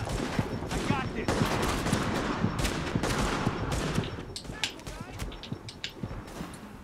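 Gunfire in The Division shooter game: dense, rapid volleys of sharp shots, with several weapons firing at once, thinning toward the end.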